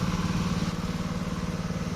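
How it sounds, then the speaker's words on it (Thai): Seven-horsepower engine of a small rotary tiller running steadily, a close, continuous low chugging putter with a rough pulsing rhythm and no talk over it. "อันนี้เป็นรถ เอ่อเพืนอนว่ารถ พ่วน รถพ่วนเครื่องยนต์ขนาดเจ็ดแรง"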